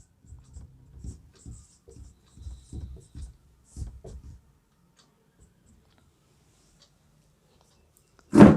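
Pen or chalk writing out a trigonometry proof, a series of short scratching strokes in bursts over several seconds, then quiet, ending with a sudden louder knock.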